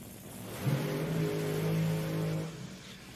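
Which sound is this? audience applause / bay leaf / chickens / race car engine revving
race car engine revving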